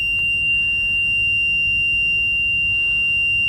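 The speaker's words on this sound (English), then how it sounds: "Why is it still beeping?" A golf cart beeps steadily after being switched on, a continuous electronic tone holding at one pitch for several seconds over a low rumbling background, with no talking.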